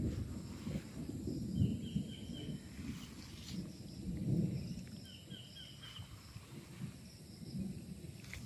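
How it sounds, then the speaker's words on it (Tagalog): Low rolling thunder rumbles in distant swells over steady soft rain on a coconut farm in Pagsanjan, Laguna, with crickets chirping faintly through the background and no talk. "Yan, kumukulog, medyo umuulan po ngayon"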